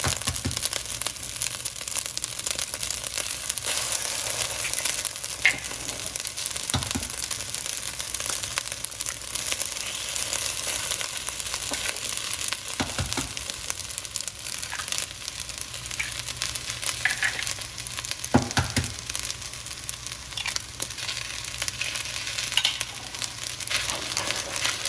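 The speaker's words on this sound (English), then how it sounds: "I'm gonna create a little well and I'm gonna crack my eggs." Eggs cracked into a well in fried rice sizzle and fry steadily in a hot pan, a continuous close crackle with occasional scrapes and clinks of stirring, no talking.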